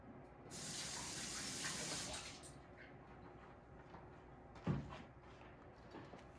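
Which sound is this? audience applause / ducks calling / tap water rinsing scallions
tap water rinsing scallions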